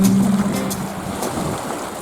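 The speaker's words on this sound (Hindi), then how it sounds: "बहुत शोर मचा रही हैं लहरें।" Waves on Pangong Lake, a steady rushing wash of water lapping close by, loud and continuous over two seconds with no voices.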